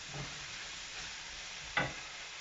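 Mushroom and aubergine fry in a pan over medium heat, a soft, steady sizzle heard close but quietly, broken by a brief stir or clatter near the end.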